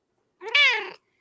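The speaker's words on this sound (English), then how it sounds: "Oh, hi, kitty." A domestic cat gives a single clear, close meow lasting about half a second, rising then falling in pitch, with silence before and after.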